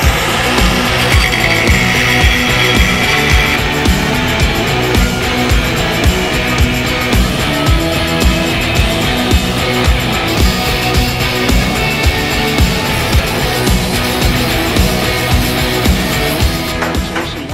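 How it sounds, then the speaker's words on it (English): An angle grinder fitted with a guard runs continuously and loudly in a workshop, a steady buzzing whine with a rough, gritty cutting texture throughout. "Look, I've got proper eye protection and a guard on the grinder."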